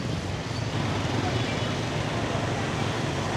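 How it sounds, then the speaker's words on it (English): Steady road traffic in Siem Reap, Cambodia, a continuous broadband roar of passing vehicles at moderate distance with no distinct individual events. "we've got some traffic today."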